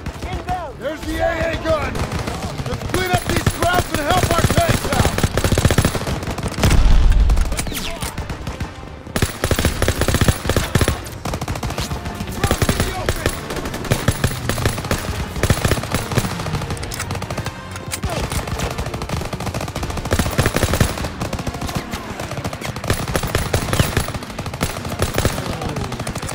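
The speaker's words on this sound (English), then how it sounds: "There's the AA gun!" Anti-aircraft gun fire in a Call of Duty WWII battle, long dense bursts of rapid, loud shots hammering almost continuously, layered with other gunfire and voices shouting over the din.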